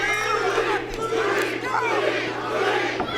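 A wrestling arena crowd roars and chants in a steady, dense wall of shouting voices that holds loud and continuous throughout.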